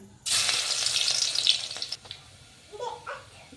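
Garlic dropped into hot oil with mustard seeds, bursting into a loud, bright crackling sizzle that holds steady for a couple of seconds and then drops away, leaving faint spattering and soft kitchen noise.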